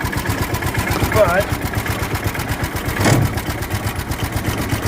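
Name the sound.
John Deere Gator engine running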